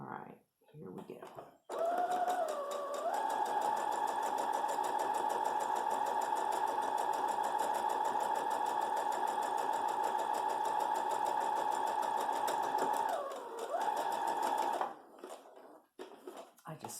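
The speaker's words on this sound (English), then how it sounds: "I just sewed off the edge." A sewing machine runs steadily for about thirteen seconds, loud and close, stitching along the edge of a fabric face mask. It starts and stops with short pauses at either end, and there is no talk over the whirring.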